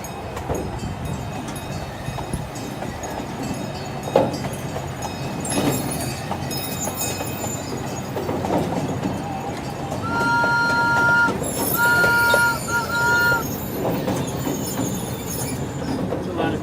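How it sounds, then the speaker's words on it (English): The St. Louis Zoo train rolls along its rails with steady rumbling, wheel clatter and sharp metallic squeals near the end, people talking faintly in the background. "Train ahead."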